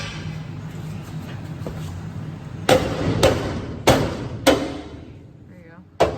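A hammer strikes a transmission in a vehicle to tap it into place, four loud sharp metallic blows spaced about half a second apart, then one more at the end, close, with talk around them.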